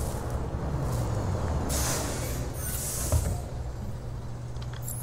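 Bus air brakes hiss and release in Detroit: Become Human, a steady low idling rumble with a couple of bright airy bursts, mid-distance, no talking.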